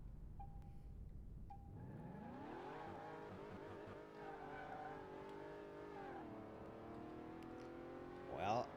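A Maserati MC Stradale in a restoration video game starts with two short beeps, then its engine revs up and shifts through gears, rising in pitch and settling into a smooth, steady note, with a rising rev at the end.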